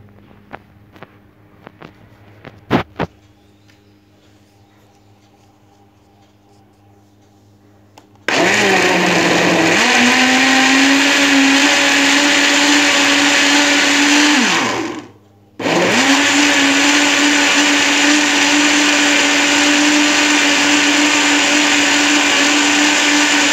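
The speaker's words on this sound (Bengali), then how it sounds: "এখন আমি সুইচটা দিয়ে জাস্ট আমি ব্লেন্ড করে নেব।" An electric blender whirs loudly as it blends a watermelon smoothie, starting after quiet handling noises, dipping briefly as the motor stops, then restarting and running steadily to the end.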